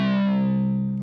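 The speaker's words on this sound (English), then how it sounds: "when you hear a sync sound, you think of this kind of sound normally" Korg multi/poly synthesizer playing an oscillator sync sound, a bright buzzing sustained tone with harmonics sweeping downward over a steady low pitch, loud and alone.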